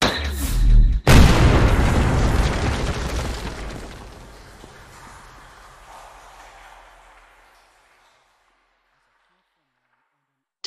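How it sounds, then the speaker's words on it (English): A heavy detonation booms through the cryogenics wing of a Fallout 76 vault: one sharp blast near the start, then a long rumbling roar that slowly fades to silence. "Detonation in the cryogenics wing."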